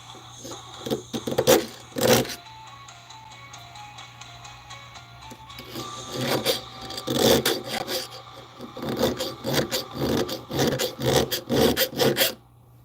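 Rasping strokes of a file taking burrs off a wooden carving at a workbench, irregular bursts of scraping, sparse at first then a quicker run of close, rhythmic strokes.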